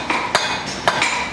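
A bodkin arrowhead is hammered on an anvil at a forge, with a few bright metallic strikes ringing out close by in an uneven rhythm.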